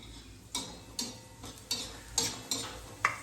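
Cluster beans stir-fried on a flat griddle: a steady sizzle with about seven sharp scraping strokes at a regular, unhurried pace, close by.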